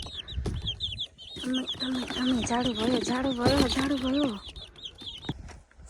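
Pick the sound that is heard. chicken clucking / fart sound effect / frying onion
chicken clucking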